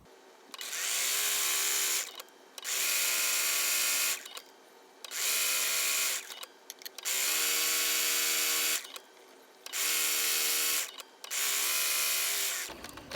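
Sewing machine stitching a thin strip of fabric for a face mask, running in six loud whirring bursts of about one to two seconds each, separated by brief pauses, with no talking.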